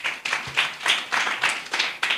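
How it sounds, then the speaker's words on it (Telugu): An audience claps loudly during a Christmas church sermon, about eight bursts of applause in quick succession with no voice over them. "ఇప్పుడు చప్పట్లు కొట్టండి గట్టిగా"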